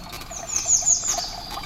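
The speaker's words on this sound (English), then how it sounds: "listening to the birds" Birds sing in an old recording made some 30 years ago, high bright chirping phrases repeating over a faint hissy background, no voices.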